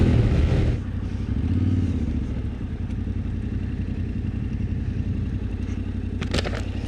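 A Yamaha Ténéré 700 on its stock exhaust gives a continuous engine drone while riding, mixed with wind rush and a light clatter.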